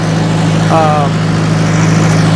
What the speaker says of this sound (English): We'll see if we can hear anything over this tractor